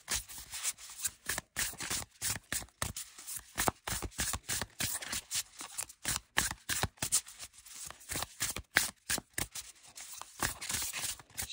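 Linen-finish tarot cards being shuffled by hand, a quick run of crisp riffling and flicking bursts with brief pauses, close and fairly soft, no talk.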